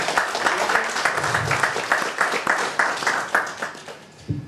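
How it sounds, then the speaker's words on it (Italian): Audience applause at a conference on the Amalfi Coast, a dense patter of many hands clapping with a steady pulse, fading toward the end and cut off by a brief voice. "un bel applauso"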